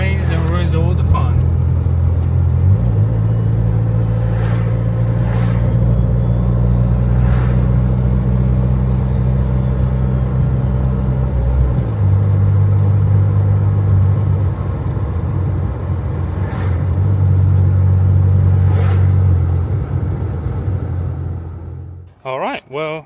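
A Mercedes 190E fitted with a swapped ZF 8HP automatic gearbox drives along, its engine droning and rumbling steadily inside the cabin, rising briefly under acceleration, with a voice talking over it near the end.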